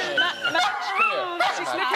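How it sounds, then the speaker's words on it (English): A dog barks and yips at its own image on a television screen, giving short whimpering barks close by while people talk over it. "That's your own picture you're barking at for heaven's sake."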